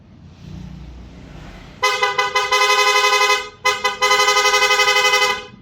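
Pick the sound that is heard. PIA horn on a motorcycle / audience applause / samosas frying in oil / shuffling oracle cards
PIA horn on a motorcycle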